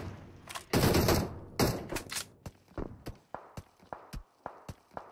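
PUBG Mobile gunfire: a few loud blasts, then a steady series of sharp single shots at an even pace, with no talking.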